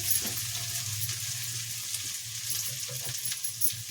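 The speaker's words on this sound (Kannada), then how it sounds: "ಈಗ ಎಣ್ಣೆ ಕಾದಿದೆ ಚೆನ್ನಾಗಿ ಇವಾಗ ಮೊಳಕೆ ಕಾಳನ್ನ ಮೆಂತ್ಯ ಮೊಳಕೆ ಕಾಳನ್ನ ಸೇರಿಸ್ಕೊಳ್ಳಿ" Sprouted fenugreek seeds fry in hot oil with a steady, close sizzle and fine crackling throughout, a low hum underneath and no voices.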